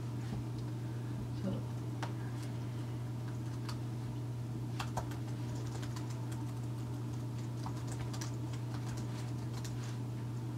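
Computer keyboard being typed on while writing Node.js code, a run of quick irregular clicks and taps, fairly close and moderately quiet over a steady low hum.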